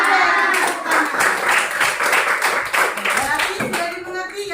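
A class of students claps hands in a loud, dense burst lasting several seconds, with voices mixed into the clapping.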